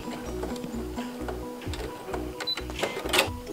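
A sewing machine runs along a dress seam and backstitches, its needle ticking in short, quick bursts with brief stops between them, close by and fairly loud, with light handling clicks toward the end.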